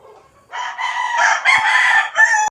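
A game fowl stag crows loudly and close at a game farm, one long drawn-out cock-a-doodle-doo following a faint lead-in, with a brief cluck-like break near the end.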